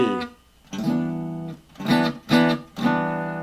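A sixth chord on guitar played a few times in rough strums, ringing briefly between hits with a warm, slightly dark tone.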